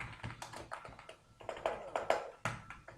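Rapid, uneven tapping of keys on a computer keyboard while a name is entered into a sign-up form, close and fairly quiet, with no voices.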